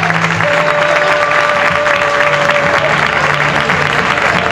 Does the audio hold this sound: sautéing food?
no